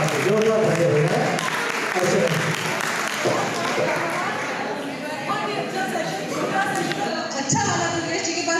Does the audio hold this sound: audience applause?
yes